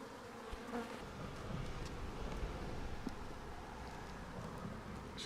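Honey bees swarm inside a chimney during a live removal, their buzzing a dense, continuous drone that stays steady and fairly faint with small shifts in pitch throughout, with no voices.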